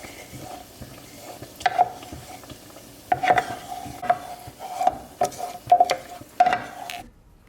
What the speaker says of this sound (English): Go ahead and heat this up on medium heat and then stir it until it's all melted.